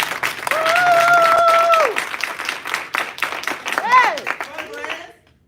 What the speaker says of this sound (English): Go ahead, clap for them.